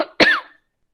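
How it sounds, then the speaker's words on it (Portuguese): A single sharp cough from a woman giving an online talk, close and fairly loud, with a brief softer breath just before it and silence afterward. "desculpa, eu vou ter que tossir"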